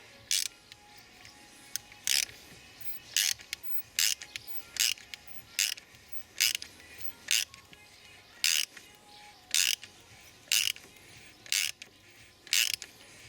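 Ratchet turning out a glow plug on a Mercedes W210 270 CDI, a dozen evenly spaced, crisp clicking bursts of pawl ratcheting with short pauses between strokes, close and fairly quiet with no talking.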